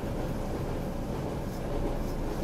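A Rhaetian Railway train travelling from St. Moritz to Tirano rumbles steadily and loudly from the carriage, a continuous rolling rail noise with no break.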